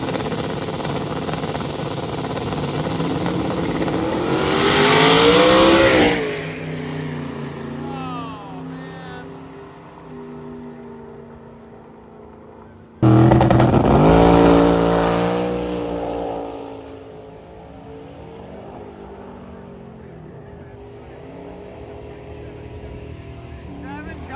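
A loud drag racing car roars up hard for a few seconds during a pass at a drag strip, cuts off, then a second burst of engine noise blasts in and fades, with crowd and announcer chatter around it.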